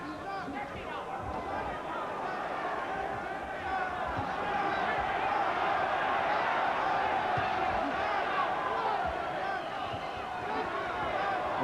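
A boxing crowd at the Gary Mason vs Everett 'Big Foot' Martin heavyweight fight keeps up a steady roar and murmur of cheering, with a commentator talking over it throughout.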